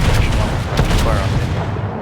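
Battleship guns firing in World of Warships, dense overlapping booms and blasts over a constant loud rumble of naval combat, with a sharper shot near the middle.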